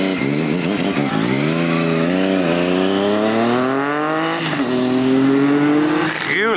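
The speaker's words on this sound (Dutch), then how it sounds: "Gaat de motor rijden weer." A motorcycle engine revs and accelerates nearby, its loud whining pitch climbing steadily for several seconds with a brief dip and a sharp burst near the end, dominating the clip without clear talk over it.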